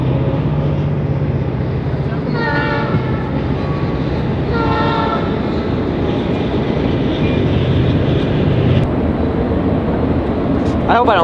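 Train passing near a fishing spot, loud and continuous rumble with repeated horn blasts around the middle, steady rolling noise throughout; a voice speaks briefly over it.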